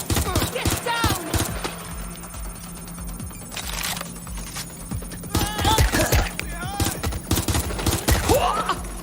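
Sustained gunfire from the video game Watch Dogs Legion, loud bursts and sharp shots, under continuous game dialogue and shouting.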